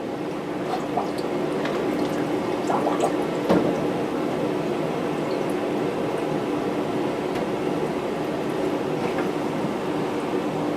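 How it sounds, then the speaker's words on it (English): An aquarium canister filter fills with water in a steady, loud, continuous rush of gurgling and trickling, with a brief clunk partway through and no talk. "Then we're going to take the canister, let it fill up with water."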